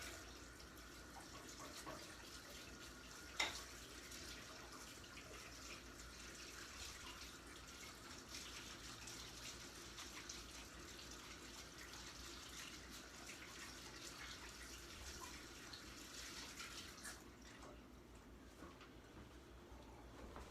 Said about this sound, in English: Let me wash them real quick. Just rinse them off.